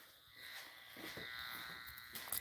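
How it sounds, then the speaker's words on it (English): Steady electronic buzz from a network cable toner probe picking up the tone signal on a home network line, a continuous high-pitched hum with faint wavering, held near and alone for a couple of seconds. "I'll turn this toner on, which will detect the tone that's emitting right now."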